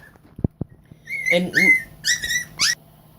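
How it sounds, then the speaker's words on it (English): A puppy whimpers indoors, a few faint clicks followed by four loud, high-pitched whining squeals in quick succession close to the microphone. "Excuse my puppy, sorry for that."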